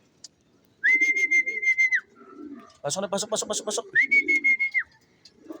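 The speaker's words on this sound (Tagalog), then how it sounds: "Ito na guys, yung ibon natin bumaba na." A racing pigeon lands during its first training flight in south Antipolo, giving sustained whistle-like calls and short cooing bursts, loud and close, with someone speaking briefly.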